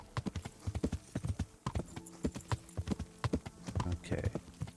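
A horse's hooves clip-clop steadily in the medieval game Kingdom Come Deliverance, a close, regular trot of hard knocks that keeps going throughout.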